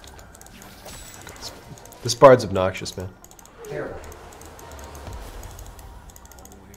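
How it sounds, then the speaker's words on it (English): A brief burst of clicky typing on a Razer BlackWidow V2 keyboard with green switches rattles out mid-clip, faint and close, while people talk over it. "I'm on the Black Widow V2 with green switches, so if you hear typing in the background, that's me."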